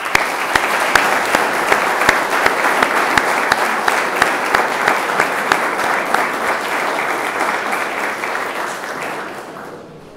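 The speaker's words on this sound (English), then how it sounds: "So I would all ask you to make a big applause at the beginning for the teachers of this school" An audience at a formal evening reception applauds for a school's teachers, a sustained crowd of hand claps that holds steady for several seconds and then fades away.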